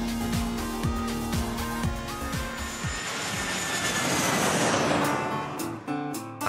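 A passenger airplane arrives in Seattle after an 11-hour flight, its jet engines roaring in a broad, steady wash that swells and then fades, with faint mechanical tones underneath.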